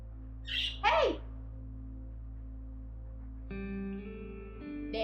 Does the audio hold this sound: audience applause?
no